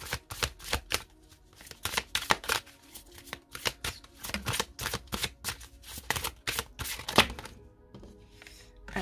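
Oracle cards are shuffled and drawn, giving a dense run of crisp riffling, snapping and flicking, close up and continuous with no voice over it.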